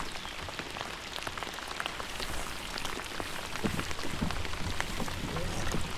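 Steady rain pelts the water and surfaces around a kayak during a bass fishing trip, a dense, close, continuous patter with scattered heavier drops.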